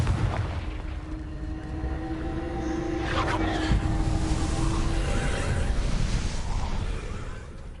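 A Confringo fire spell blast in the game Hogwarts Legacy, a loud, rumbling explosive burst with crackling debris over a sustained low roar and a brief tonal whine.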